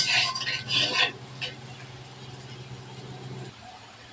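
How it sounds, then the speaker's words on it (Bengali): Potatoes frying in oil are stirred in a pan while cooking a Bengali shol fish curry, with scraping and clattering strokes at first, then a quieter steady sizzle. "আলুগুলো নাড়াচাড়া করে এপিস ওপিস ভালোভাবে ভাজা নেব।"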